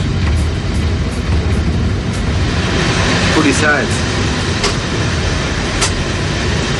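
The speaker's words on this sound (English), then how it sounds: "We're an express passenger train" An express passenger train runs on rails with a loud, continuous rumble and rattling, a brief squeal partway through, and a person speaking over the noise.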